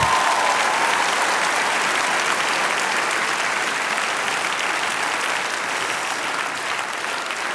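Loud, sustained applause from an audience at the Spellemannprisen 2012 music award ceremony, a dense, even wash of clapping with no break throughout.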